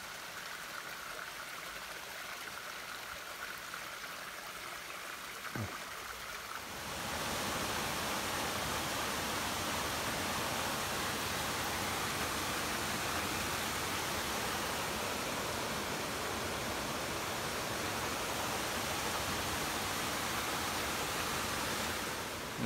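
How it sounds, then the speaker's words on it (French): A mountain waterfall in the Chartreuse roars as a steady, dense rush of falling water that grows louder and then holds constant, with no voices. "Je sais pas si on m'entend bien parce qu'il y a la cascade"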